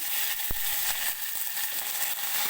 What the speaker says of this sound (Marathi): जिरे व्यवस्थित फुलले की मग त्याच्यामध्ये हिरवी मिरची टाकते मी कडीपत्त्याची पानं आणि लसूण